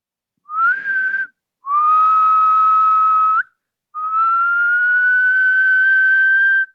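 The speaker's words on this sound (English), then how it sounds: "It's my whistle." Three whistle blasts in a row, a short one followed by two long steady tones with brief gaps, loud and close with no talk.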